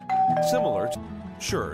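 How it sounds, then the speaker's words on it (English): A Bosma Sentry video doorbell plays a clear electronic chime with a sustained tone and sliding notes, heard up close as a voice speaks over it. "That's the sound of your brand new doorbell."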